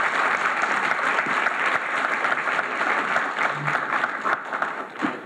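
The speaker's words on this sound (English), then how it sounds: "I request a huge round of applause for our panelists." Sustained applause from the audience at the closing plenary of an internet governance forum in Taipei, a dense steady wash of clapping that holds at an even level throughout.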